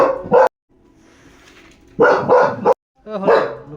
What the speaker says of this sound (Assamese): লুকাই লুকাই ভুকি আছে দেখিছে।